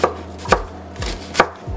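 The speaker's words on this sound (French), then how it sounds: "Commençons par couper un oignon." A knife chops an onion on a cutting board in a steady rhythm, with about four loud, close thuds spaced roughly half a second apart and no voices.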